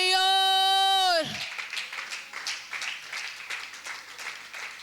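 Church congregation applauding during a service, a scattered burst of clapping that follows a sustained sung note, moderately close.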